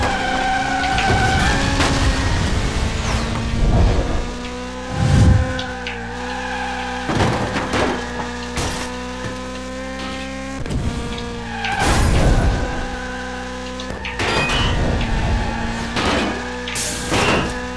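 A race car oversteers and skids in the Split Second Velocity racing game. A whining engine runs throughout, broken by repeated loud tire skids and booming crashes, with no talking.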